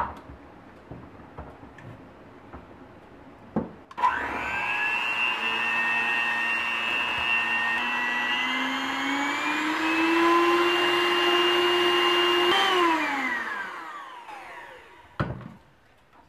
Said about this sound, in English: you're going to switch your mixer on to high and beat it until it thickens up